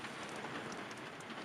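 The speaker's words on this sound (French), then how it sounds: "il repleut à l'intérieur du van" Rain pattering on a van's roof and leaking inside, a soft continuous hiss of drops heard from within the vehicle, faint and steady.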